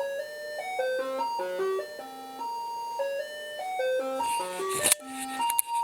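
A Brunswick synth kit from Future Sound plays a looping sequence of bright, bleepy square-toned notes in a bouncy stepping melody. Late in the run, sharp crackly bursts and clicks cut in over the notes.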